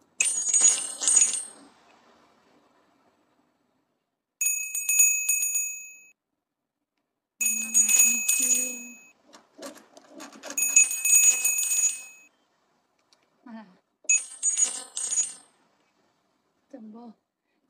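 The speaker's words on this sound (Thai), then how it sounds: "จัมโบสะดุ้งทุกครั้งที่มีเสียงกระดิ่ง" A small bell rings in several separate bursts of bright, tinkling chimes with silent gaps between them, loud and close, with a few brief voice sounds in the pauses.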